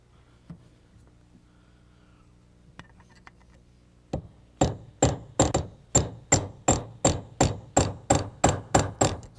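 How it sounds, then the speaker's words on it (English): Nine rivets are hammered into a brake servo lining on an early post-war Rolls-Royce, first some quiet handling, then a regular run of sharp, ringing metallic blows, close and loud, evenly spaced. "that's all nine rivets in there, and that completes that process of riveting on the servo lining"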